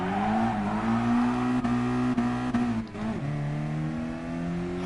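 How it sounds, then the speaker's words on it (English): Racing car engine in the GT Sport video game holding a steady, loud harmonic drone with small rises and dips in pitch, then shifting down to a lower note near the end, with no talking. "It's so nice to have the sound of an engine."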